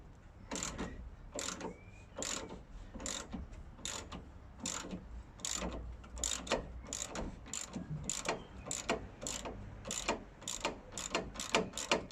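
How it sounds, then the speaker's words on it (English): A ratchet wrench turns on the brakes of a Land Rover Discovery 2 Td5, giving a crisp, evenly spaced run of loud clicks, roughly two per second, with no voices. "we might be able to get the ratchet"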